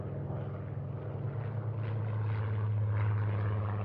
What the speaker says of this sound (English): Aircraft erupted from the Midway runway, some to save themselves from attack, others to defend the island.